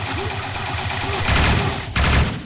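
Rapid gunfire from the top-down shooter game Neon Chrome, a dense chattering burst over a steady low engine-like hum, growing louder near the end; a voice talks faintly underneath.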